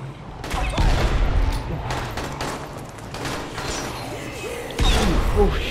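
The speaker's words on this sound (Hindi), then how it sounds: "गोलियां चलनी स्टार्ट हो गई।" Gunfire in the PS4 game Dying Light: The Following, with repeated sharp shots and crashing impacts in uneven bursts over a busy game background while someone talks.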